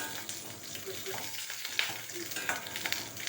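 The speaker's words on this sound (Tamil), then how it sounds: "இது மாதிரி பச்சை மிளகாய் நல்லா வதங்கணும்" Green chillies sautéing in oil in a wok-style pan, with a steady soft sizzle and a few light stirring scrapes, no talking.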